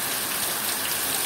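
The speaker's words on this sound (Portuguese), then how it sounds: "Chuva." Steady rain falls, making a dense, even hiss of drops hitting surfaces. The sound is close and constant, with no voices.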